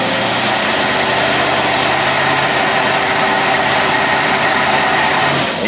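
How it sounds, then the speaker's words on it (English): Studebaker engine fitted with a WCFB carburetor running hard under dynamometer load, a loud, sustained roar with steady vibration that barely varies until it eases at the very end. "then we're going to go ahead and rev it up"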